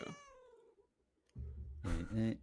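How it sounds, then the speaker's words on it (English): A domestic cat gives a drawn-out meow close by during an online session, followed by a brief silence and then a louder, rougher sound. "Oh, there's my cat."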